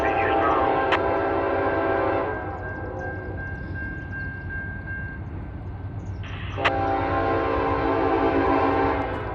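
A northbound train rolls past an abandoned railroad crossing, its steady rumble swelling loud and near at the start and again near the end, with a sustained horn tone in between.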